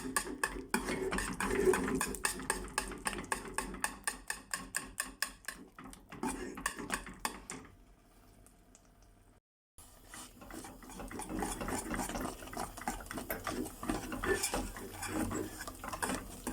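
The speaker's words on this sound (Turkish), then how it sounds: "Dediğim gibi hızlı bir şekilde karıştıralım." Homemade kashar cheese and butter stirred fast in a pot, a rapid rhythmic clatter of spoon against metal, close and busy, pausing briefly before thicker, softer stirring resumes.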